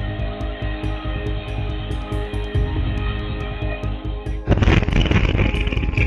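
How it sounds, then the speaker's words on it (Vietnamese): A boiler explodes in a wood factory in Dong Nai, caught on CCTV: a steady droning hum of machinery gives way to a sudden loud broadband blast and roaring rumble that continues to the end. "ghi lại được khoảnh khắc khu vực lò hơi phát nổ"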